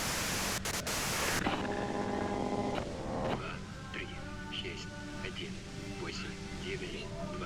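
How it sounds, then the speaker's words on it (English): Broadband radio static hisses loudly from a radio in Disco Elysium, a dense wash of white noise for the first second or so, then dropping to a lower hiss beneath tonal game music and voices. "you can do it through the white noise"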